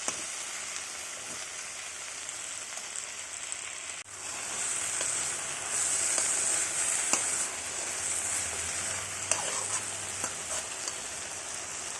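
Chopped gongura leaves frying in a pan, with a steady, dense crackling sizzle like light rain that swells a little partway through, plus occasional faint stirring clicks, close by and without any voices.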